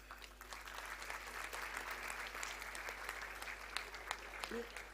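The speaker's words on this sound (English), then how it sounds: "We can all clap." Audience applause at a graduation convocation, a steady wash of many hands clapping at moderate distance, fairly quiet with a faint low hum and a brief voice near the end.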